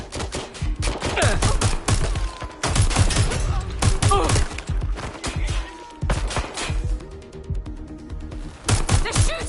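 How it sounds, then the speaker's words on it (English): Bursts of gunfire crack through a Watch Dogs Legion firefight, rapid volleys and single shots repeating close and loud across the whole stretch, with a voice cutting in briefly between salvos. "They're shooting!"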